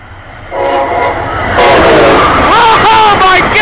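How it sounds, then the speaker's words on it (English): An Amtrak Northeast Regional train hauled by an ACS-64 electric locomotive passes close by at Norwood, a rising rumble and rail noise with a horn-like tonal sound at the start and squealing, bending wheel tones as the cars roll past loudly. "Alright, here comes another Amtrak."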